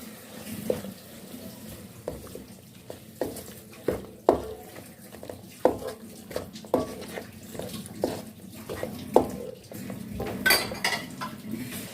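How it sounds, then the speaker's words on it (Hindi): Spices and vegetables are stirred in a cooking pot with a metal utensil for a vegetable pulao, making a rhythmic series of scraping knocks against the pot, close and moderately loud, with soft sizzling underneath. "अब इसको हम अच्छे से मिक्स करेंगे।"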